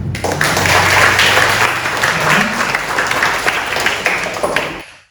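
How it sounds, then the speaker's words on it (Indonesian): Loud applause from an audience welcoming a moderator at a Buddhist dharma talk, a dense roar of clapping that swells early, holds strong, then fades quickly to silence at the close. "Jadi mari kita sambut dengan tepuk tangan yang meriah moderator kita, Alexander Tanwi."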